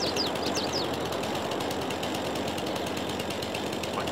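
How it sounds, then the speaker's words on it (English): A chainsaw in Farming Simulator 22 cuts down a roadside lamp post, giving a steady, loud, continuous engine buzz with no breaks over the whole stretch. "We get our chainsaw out,"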